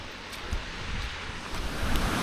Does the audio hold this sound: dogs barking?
no